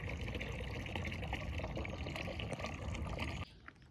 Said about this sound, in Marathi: सगळा प्रेशर कमी झाला हंड्याचा पाण्याचा.